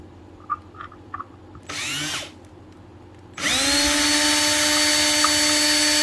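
A power drill whines briefly, stops, then starts again and runs steadily at a high, screeching pitch against a hardened HSS steel knife blade (HRC 68-70), loud and close, making no scratch.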